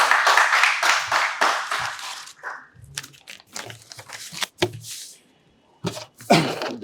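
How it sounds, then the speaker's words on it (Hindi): Brief burst of audience clapping welcoming a speaker at a green energy event, a few seconds of steady claps that break off into scattered thumps, rustling and quiet pauses. "आप सब जोरदार तालियों से स्वागत कीजिए।"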